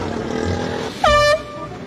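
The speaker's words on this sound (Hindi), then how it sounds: "ये बाजा बजा रहा है मैं" Loud air horn blasted as a prank in Pakistan, a single harsh blaring blast of about a third of a second that stands out sharply over background street noise.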